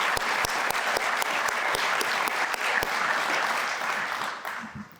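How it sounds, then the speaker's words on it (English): A gala awards dinner audience claps steadily, with dense applause and sharp individual claps standing out before the sound tapers off near the end. "Let's give him a round of applause"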